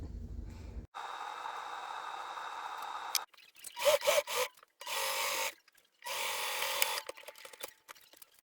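A sewing machine stitching fabric for a Greek Persephone costume, running in steady whirring bursts separated by short pauses and rustles of cloth being handled, close and fairly loud.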